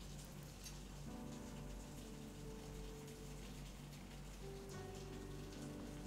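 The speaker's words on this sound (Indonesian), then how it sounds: "Suara hujannya yang pasti terdengar jelas ya. Ya memang di sini masih hujan dari tadi siang." Heavy rain falls steadily and without pause, a dense, even hiss of drops on surfaces, with faint musical tones drifting underneath.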